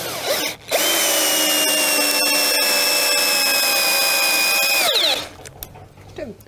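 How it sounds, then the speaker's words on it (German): A power drill drives a screw into a wooden frame with no pre-drilling, its motor whining at a steady loud pitch for about four seconds before winding down, bracketed by short clicks and handling noise. "Und jetzt einfach Schraube reinschrauben."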